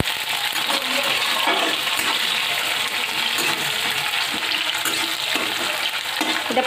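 Onions frying in oil in a pan, a steady, busy sizzle and crackle that runs loud throughout, with occasional clinks and stirring scrapes and no voices.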